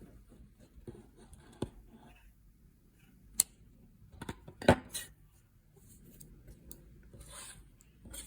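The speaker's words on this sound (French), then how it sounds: "Alors on vient couper notre fil." Scissors snip through crochet yarn while a bag is being made, a couple of brief faint clicks against quiet rustling handling noise.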